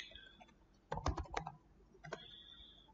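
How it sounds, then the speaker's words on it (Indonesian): A short burst of computer keyboard typing, ipconfig entered on a Windows PC: a quick cluster of close key clicks, a pause, then one more keystroke, quiet and alone. "Sini kita ketik juga IP config."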